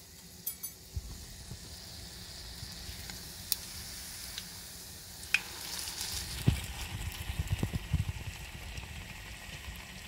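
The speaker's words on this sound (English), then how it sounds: "look for the distinct sizzle" French toast frying in a pan gives a soft, steady sizzle at moderate distance, with a few sharp utensil clinks and taps growing busier toward the end.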